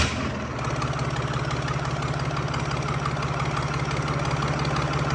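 A New Holland 3630 tractor's diesel engine idles close by, a loud, steady, rhythmic low chugging with a faint knock that holds even throughout, starting just after a brief opening moment, with no talking.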